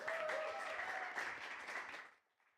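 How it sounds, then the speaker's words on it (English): An audience applauds a poet at a reading, a brief, moderately distant round of clapping that holds steady for about two seconds and then quickly dies away. "So a big round of applause, please, for Emily."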